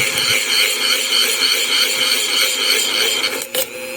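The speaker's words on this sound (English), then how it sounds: "Letting the rotation of the Dremel cord and the sawing action of the blade" A Dremel saw blade cuts through a challenge padlock with light pressure, giving a loud, steady, close rasping grind that continues without pause and dips briefly near the end.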